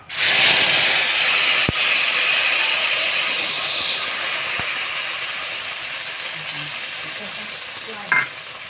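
Spices hit hot oil in a pan, bursting into a loud, steady sizzle and hiss that slowly eases over several seconds, with a faint clink of a utensil near the end.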